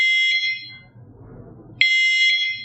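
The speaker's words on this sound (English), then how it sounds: "it will beep every 2 seconds." Remote dog trainer beeper collar giving loud, sharp electronic beeps in two bursts about two seconds apart, with quiet rustling between them.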